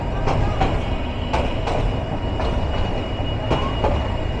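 A Karnaphuli commuter train rolls past the rail-side Karwan Bazar market in Bangladesh, a loud, steady rumble of wheels on track broken by regular clacks at the rail joints.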